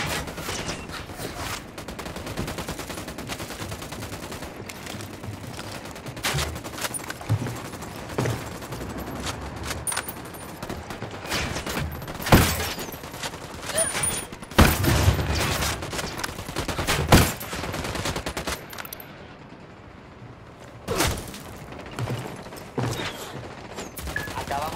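Ghost Recon Wildlands gunfire against an enemy sniper in a busy firefight: repeated sharp shots and bursts of varying loudness, with a background rumble and occasional voices throughout.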